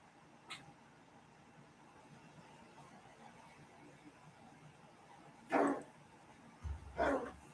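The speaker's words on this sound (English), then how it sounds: "I gotta let this dog out." A dog indoors gives a few sharp barks, a faint one early, then two or three louder barks near the end, over a low background hum.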